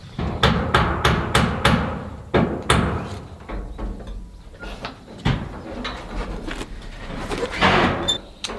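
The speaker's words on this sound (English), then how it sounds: "I'm going to chop out this corner" Chopping out a corner of a timber-frame beam for a joint on a hunting cabin build, heard as a run of sharp, close, evenly spaced knocks at first, then scattered heavier strikes and scraping, outdoors with no talk.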